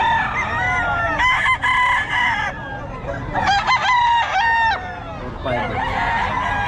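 Roosters crow loudly and close by in a series of overlapping calls, with clucking and other fowl sounds between them.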